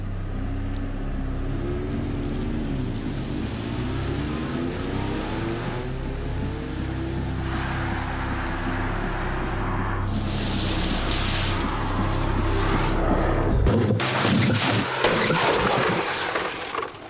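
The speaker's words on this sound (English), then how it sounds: "Another remote-controlled 3-star NCAP car, 70 miles an hour into concrete blocks." A remote-controlled car with a 3-star NCAP rating is driven at 70 mph into concrete blocks. A steady mechanical drone and rumble builds, then gives way near the end to a loud, harsh smash and clatter of impact.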